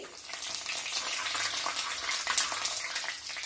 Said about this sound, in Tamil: இடிச்ச இஞ்சி பத்துலேருந்து பதினஞ்சு பல் பூண்டு நல்லா வதங்கட்டும்